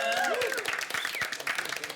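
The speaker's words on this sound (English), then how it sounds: "So I think we should give Johan a big round of applause." A studio audience breaks into quick, lively applause for a contestant named Johan, dense clapping overlapped with whoops and voices, fairly soft and brief.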